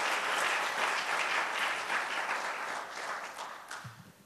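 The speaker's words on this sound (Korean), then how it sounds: "감사의 박수를 한번" Applause from a lecture audience at the close of a talk, steady dense clapping filling the room and tapering off toward the end.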